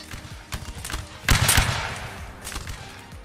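Musket volleys in Mount and Blade Warband Napoleonic Wars during a Battle of Quatre Bras event, a dense rolling crash of shots peaking midway over a steady battlefield din.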